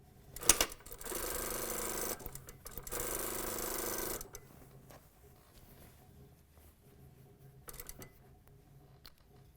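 A sewing machine stitches a pant seam in close, loud bursts of whirring, with a long run and a few short stops and starts before quieter handling noise.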